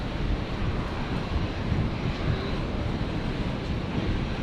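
Airplane at Brisbane International Airport, a steady broadband engine roar mixed with wind noise, sustained and fairly loud throughout without a break.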